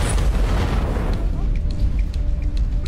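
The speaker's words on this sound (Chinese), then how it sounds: "却也恰好触发了他父亲在此设置好的炸弹" A bomb goes off in a Spanish crime thriller series: a heavy, broadband boom hits at the start and rolls into a decaying rumble with scattered crackling debris.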